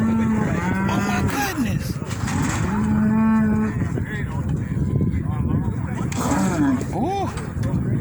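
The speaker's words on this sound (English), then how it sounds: "That cow is big as a horse." Cattle moo loudly and repeatedly at a cattle ranch, several long low calls close by, with people talking and exclaiming over them.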